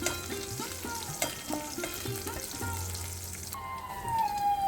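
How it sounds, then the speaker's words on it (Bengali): Soft sizzling of garlic, green chilies and dried chilies frying in oil over very low heat, with light stirring and clinks of a utensil, fairly quiet and close. "3 থেকে 4 মিনিট একদম কম আঁচে রেখে রসুন এবং কাঁচা লঙ্কা ভেজে নেব।"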